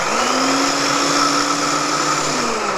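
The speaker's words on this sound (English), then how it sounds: "you're gonna turn on your food processor, and you're gonna let it just go, and puree" Food processor running at full speed, whirring loudly and steadily as it purees black bean brownie batter, close by with no voices.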